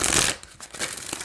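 An Archangel Animal Oracle card deck being riffle-shuffled up close, a dense papery flutter that fades after a fraction of a second, followed by softer card slides and taps.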